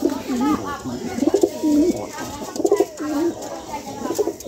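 Pet pigeons at home cooing in repeated soft, throaty rolling calls, close by, several phrases in a row.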